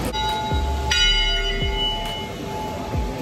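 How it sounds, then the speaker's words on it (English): A bell rings out at an outdoor event, its steady tone sounding throughout with a few soft low thuds recurring underneath, no voices present. "Every time the bell rings, Susie dies."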